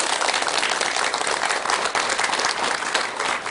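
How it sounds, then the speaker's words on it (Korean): Dense, steady applause from a large audience at a Buddhist monk's lecture on living happily, the clapping filling the whole clip without pause. "힘난 박수 한번 주세요."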